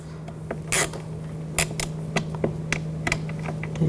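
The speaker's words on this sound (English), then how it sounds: "Now get this screw started." A screw is turned in by hand on the door of a 2000–2006 BMW X5 during a window motor and regulator job, giving close, irregular clicks and light creaks over a low steady hum.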